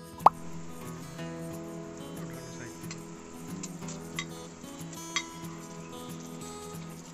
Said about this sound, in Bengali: ভাজা মাছগুলো ঝোলের মধ্যে ভালোভাবে ডুবিয়ে দিচ্ছি।